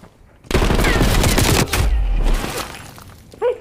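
Call of Duty Cold War gunfire: a close, loud automatic burst lasting about two seconds, then a brief trailing crackle and a short sound at the end.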